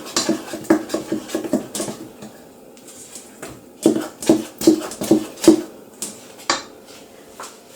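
Spoon clattering against a pot while stirring moi moi bean mixture with oil, a run of sharp metallic clinks in bursts, close and fairly loud, with soft wet scraping between them.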